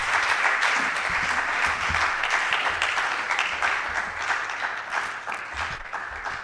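A lecture audience at the University of Ghana psychology department breaks into sustained applause after a talk on suicide prevention, dense crowd clapping that holds steady and then slowly thins toward the end.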